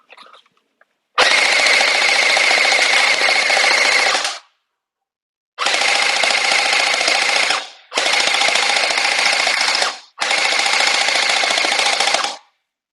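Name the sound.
custom UNLOCX gel ball blaster shooting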